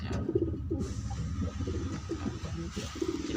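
Pigeons coo in repeated low, throaty bursts near the microphone, with several overlapping calls in an uneven rhythm against faint background noise.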